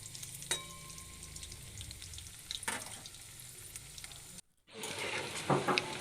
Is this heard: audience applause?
no